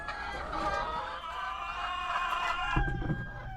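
Chickens in a coop cluck and call, close and fairly quiet, a few overlapping voices with a sharper sound near the end.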